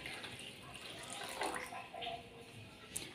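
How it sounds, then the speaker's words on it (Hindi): Water being added to semolina golgappa dough, a soft, faint splash and trickle that lasts the whole moment, heard close and quiet with no talking. "अब इसमें हम थोड़ा सा पानी और ऐड कर लेते हैं अपना,"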